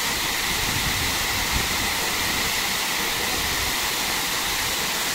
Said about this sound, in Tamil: மேலே மலை மேலேருந்து வர தண்ணி இது